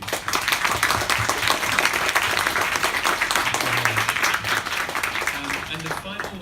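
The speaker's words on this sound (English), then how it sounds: "if we give the panelists a big round of applause, please" Audience at an innovation accelerator panel event in Tokyo clapping for the panelists, a dense, steady round of applause that fades near the end, with a voice speaking over it at first.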